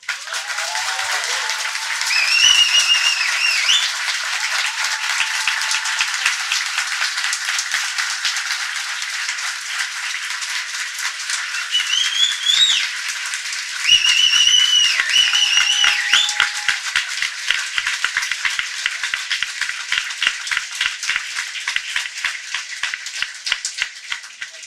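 An audience at a talk on occupied factories and workers' struggles in Argentina applauds at length, dense steady clapping that swells and holds for over twenty seconds, with a few whistles cutting through and no talking.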